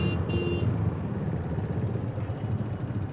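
Street traffic at a busy main intersection in Gwalior, India, waiting at a red light: a steady, loud wash of idling car, bus and motorcycle engines fills the scene, with a brief faint tonal horn or whine near the start.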